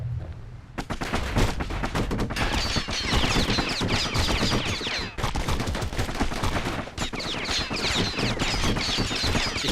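Rapid pistol fire from the video game Bastion, dense bursts of quick shots rattling almost without pause, loud and close, mixed with impacts and game effects throughout.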